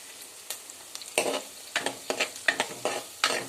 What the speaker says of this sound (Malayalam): ഇനി ഇളക്കിക്കൊണ്ട് വഴറ്റിയെടുക്കുക